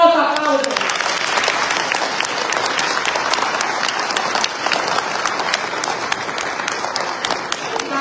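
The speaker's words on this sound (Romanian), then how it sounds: "Vă rog frumos aplauze!" Sustained crowd applause at a political rally in Craiova, a dense, steady wash of many hands clapping at close range, with a few voices and cheers mixed in throughout.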